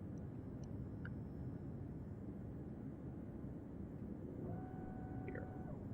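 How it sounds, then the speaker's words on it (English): An F-35B Lightning II jet takes off in ARMA 3, its engine a steady low roar rising under faint whistling tones near the end, heard alone and fairly quiet. "throttle up to 100, pull back on the stick, and you have a rapid takeoff"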